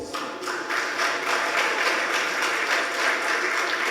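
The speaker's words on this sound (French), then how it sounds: "Applaudissements." Audience applause at a stage performance by lawyers, steady, rapid clapping from a modest crowd that builds quickly and carries on evenly, with nobody speaking.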